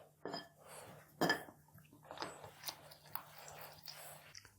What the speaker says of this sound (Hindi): अब हाथों की मदद से हम मिक्स करेंगे।